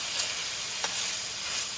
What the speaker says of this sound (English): But when you're stir frying shrimp,